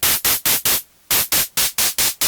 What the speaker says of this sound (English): just using noise there with the highest frequency and a resonant high pass filter